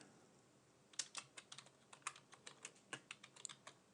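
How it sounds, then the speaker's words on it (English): Keys clatter on a computer keyboard as a command is typed into the Anaconda 3 terminal, roughly a dozen crisp, close taps in an uneven rhythm over a quiet background. "the way we would do that is we would type conda"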